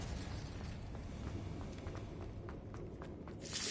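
Incendio fire spell cast in Hogwarts Legacy: a dull, rumbling whoosh with scattered crackles that ends in a brighter burst, with no talking.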